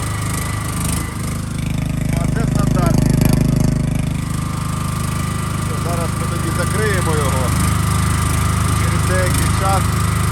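Generator running inside a protective enclosure box with a steel exhaust pipe, a loud steady mechanical hum close by, with people talking over it.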